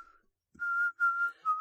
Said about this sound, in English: he demonstrates his newly mastered technique of inward whistling